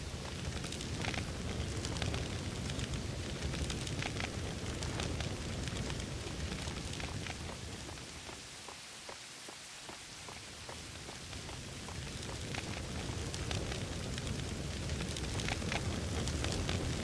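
Fire crackling and roaring after an explosion in an apartment in the game Max Payne 2, a dense, steady wash of burning noise that dips briefly midway before swelling back, loud and close with no talk.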